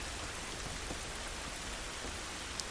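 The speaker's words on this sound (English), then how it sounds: "I can see how some people find the sound of rain to be very relaxing." Steady rain falls outdoors in The Last of Us, an even, hissing downpour that fills the whole stretch with no voices and no thunder.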